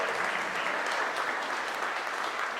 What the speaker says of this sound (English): Save the applause for just a second.